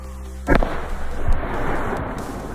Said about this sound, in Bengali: তো ব্লাস্টিং পাওয়ারটা দেখলে যে জলের মধ্যে কেমন ব্লাস্টিং হলো